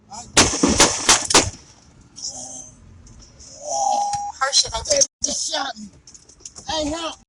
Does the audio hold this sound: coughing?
no